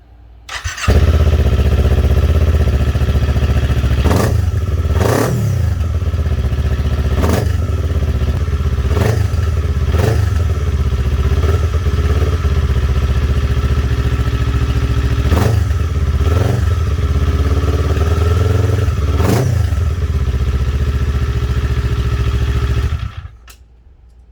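A Kawasaki Ninja 400 with an Akrapovic full exhaust and baffle fitted idles loudly and close, with a dozen or so sharp revs rising and dropping back over a steady rumble before cutting off.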